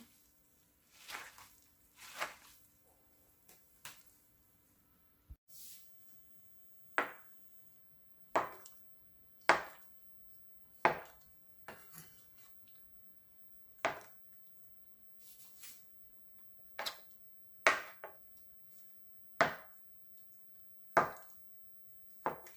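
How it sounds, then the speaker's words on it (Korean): Soaked miyeok seaweed for a tofu and beef seaweed soup is cut into bite-sized pieces on a board, giving about fifteen crisp, separate chops at a fairly even pace, close and fairly quiet. "미역은 먹기 좋은 크기로 듬성듬성 다 잘라주세요."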